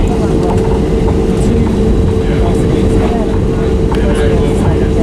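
A Frontier Airlines Airbus A320 takes off from Tampa International Airport, giving a loud, steady cabin roar of engines and rumbling wheels with a continuous rattling hum throughout.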